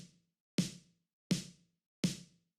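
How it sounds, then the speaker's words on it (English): Three sharp bounced snare drum sample hits, evenly spaced, each with a crisp attack and short decaying tail, alone with silence between. "It's a bounced snare."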